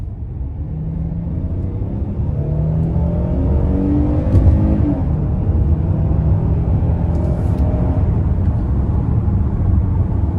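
A 2025 Hyundai Palisade Limited with a V6 accelerates in sport mode, its engine heard from inside the cabin as a loud, low droning rumble that rises and holds steady while it pulls, with no talking.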